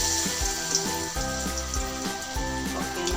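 Hot oil sizzles in a pan on an Odia home stove, a continuous close hiss and crackle with faint clinks from the cookware.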